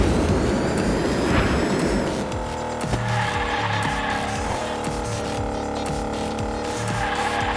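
Toy race cars in the Hot Wheels Unleashed racing game, with a loud tire squeal and skid in the first two seconds, then steady engine whine and track noise throughout, no speech.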